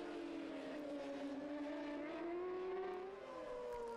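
Kawasaki and other racing motorcycles at the Lédenon circuit during an FSBK race, engines holding a steady high whine that rises and shifts in pitch as they pass, loud and continuous with no talk.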